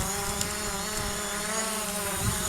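A Hubsan Zino drone hovering at low throttle, its propellers giving a steady buzzing drone with layered harmonic whine, continuous and fairly close throughout.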